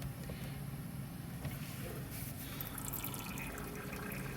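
Continuous rushing and splashing of water draining through the bottom valve of a motorhome tank, close and steady throughout with no talking.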